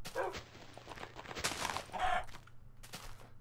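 Barking from a tamed wolf in the Minecraft video game, several short bursts mixed with combat effects over a steady background hum.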